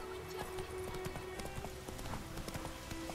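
Roach the horse gallops in The Witcher 3, steady hoofbeats clip-clopping at a brisk, even rhythm, close and fairly loud over game ambience, with a brief neigh-like tone mixed in.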